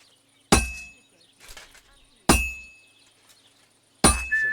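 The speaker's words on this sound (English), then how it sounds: "When I hammer a piece to a beat, the work goes by easier." Three sharp metallic clinks of a hammer striking a sword on an anvil during smithing in a video game, evenly spaced about two seconds apart, each ringing out and decaying, with faint softer taps between them.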